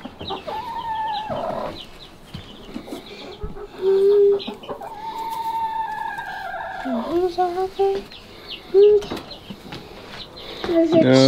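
Hens in a coop cluck and squawk in short, drawn-out calls up close, repeating throughout while people talk quietly between them.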